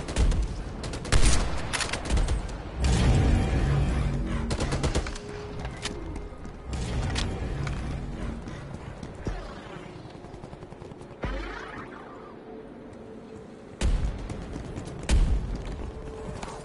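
Gunfire in Call of Duty Cold War Zombies comes in bursts of loud, close shots and rattling volleys with brief lulls between them, mixed with game effects.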